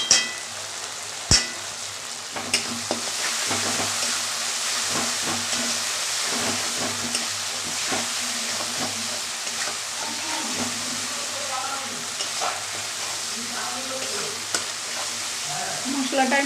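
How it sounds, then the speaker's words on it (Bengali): Spice paste of mustard and green chilli sizzles in a pan with salt as it is stirred and sautéed, a steady loud frying hiss broken by occasional scrapes and clinks of the utensil. "মশলাটা আমি ভালো করে কষিয়ে নেব।"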